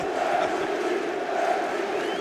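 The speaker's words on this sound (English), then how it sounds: "As you hear the MVP chants from the crowd" Arena crowd at the FIBA EuroBasket 2017 final between Slovenia and Serbia chanting MVP, a dense, steady roar of many voices swelling slightly in waves, loud and continuous throughout.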